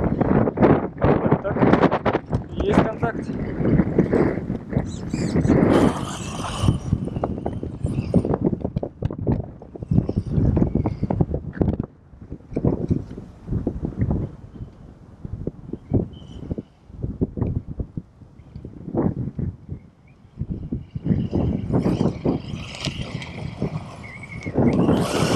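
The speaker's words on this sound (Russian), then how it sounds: "на улице очень сильный ветер, так что я думаю, будет плохо меня слышно" Strong outdoor wind buffets the microphone in loud, irregular rumbling gusts while someone talks intermittently throughout.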